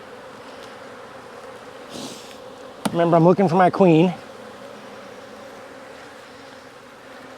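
Honeybees in a nuc hive give a steady low hum beneath the scene, with a person speaking briefly over it.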